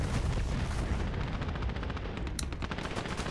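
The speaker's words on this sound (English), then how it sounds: "Airstrike is down, but no damage done." An airstrike and heavy gunfire in an online competitive shooter game make a loud, continuous barrage of rapid shots and blasts, dense and unbroken, with no talking.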